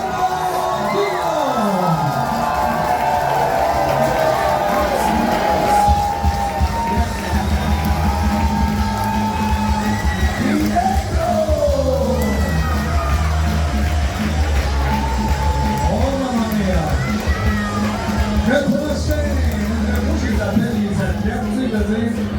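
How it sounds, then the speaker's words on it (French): A crowd at a live show at Brasiervil 2024 cheers, whoops and yells loudly and steadily, with sustained shouting voices layered over the noise of the audience throughout. "on applaudit s'il vous plaît Antoine Fuego Diaz."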